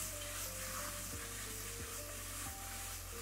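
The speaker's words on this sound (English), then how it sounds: "Now we're actually sauteing these mushrooms" Mushrooms sauteing in a pan for beef stroganoff, a steady loud sizzle and hiss with a few soft stirring knocks, no voices.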